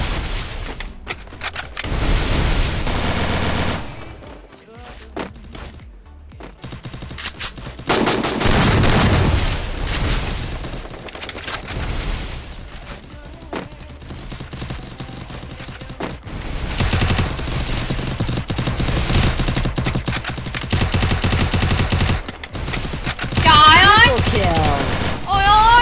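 Rapid bursts of gunfire and fusillades from the Garena Free Fire video game, loud and repeated with short pauses, mixed with game effects and a voice talking over the action.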